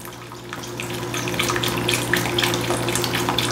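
Half a cup of beef broth pours steadily into a beef and broccoli stir-fry, a close, continuous liquid splash and gush lasting a few seconds with no talking.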